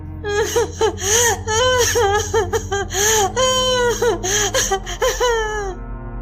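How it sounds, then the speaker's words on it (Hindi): A woman wails and sobs in a forest setting within a narrated Hindi folk tale, with drawn-out rising and falling cries broken by gasping breaths, loud and close throughout. "तभी कुछ दूर जाने पर एक स्त्री की रोने की आवाज सुनाई पड़ती है।"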